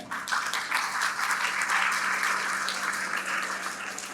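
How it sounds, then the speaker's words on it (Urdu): An audience in a hall at a 13 August event in Rawalpindi/Islamabad claps steadily, a dense, sustained round of applause that holds its level throughout. "ہمیں بھرپور تالیاں بجانی چاہیے"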